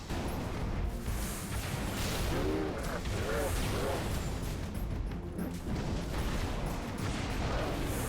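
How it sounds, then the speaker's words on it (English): Rocket launcher fire in the Halo Reach video game, with loud booming blasts, whooshes and crashing impacts over dense battle noise, a voice speaking briefly amid the chaos. "The rocket launcher,"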